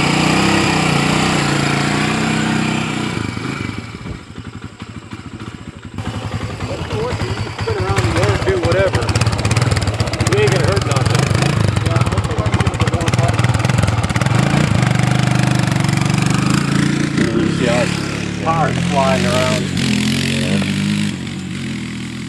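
A Honda 300EX quad engine runs steadily close by, a buzzy idle that lifts into brief revs, with people talking over it throughout.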